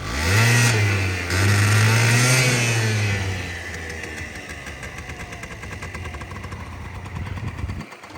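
A cold Honda Dio AF-27 two-stroke scooter engine runs steadily, first revving loudly for a few seconds and then settling into a quieter, buzzy idle close by.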